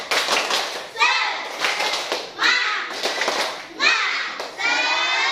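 A classroom of children performs a rhythmic 'tepuk semangat' clapping chant led by a teacher, with bursts of patterned claps alternating with children's chanted voices, repeated several times in quick succession.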